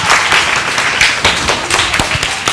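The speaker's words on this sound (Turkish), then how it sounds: "izci liderimiz Cevdet Yokuş'u bir alkışlarla" Applause greets a scout leader at a Turkish children's show for Yeşilay Week with Vehbi Koç Primary School scouts, a dense, steady patter of many hands clapping throughout, loud and close, with no talk over it.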